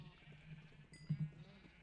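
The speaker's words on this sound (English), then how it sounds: "Oh, so many little baby sheep." Baby sheep bleating faintly in a blocky Minecraft-style farming game, a couple of short soft bleats amid quiet background ambience.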